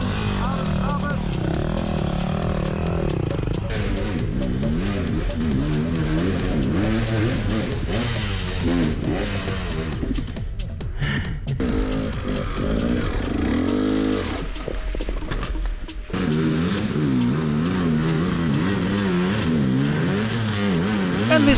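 A Yamaha WR250R enduro dirt bike engine revs hard and repeatedly on a steep hard enduro trail in Watagan State Forest, loud and close, with throttle surges, brief drops and a short pause midway, and a voice speaking at times over it.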